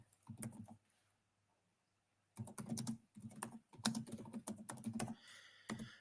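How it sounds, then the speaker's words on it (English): Typing on a computer keyboard: two bursts of rapid, close keystroke clicking separated by a quiet pause, with no talking. "just going to type a comment in here"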